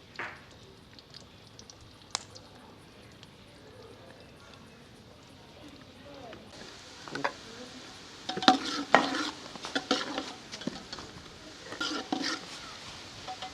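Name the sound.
finely chopped onions frying in hot oil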